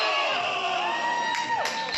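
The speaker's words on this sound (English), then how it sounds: "you have a crowd making fucking noise and the commentators are not talking over them" Wrestling arena crowd roaring and cheering loudly throughout, a dense wall of voices with whoops rising near the end, no commentary over it.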